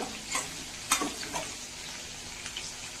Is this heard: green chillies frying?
yes